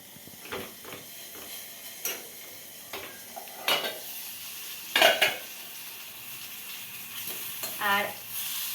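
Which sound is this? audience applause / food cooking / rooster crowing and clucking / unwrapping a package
food cooking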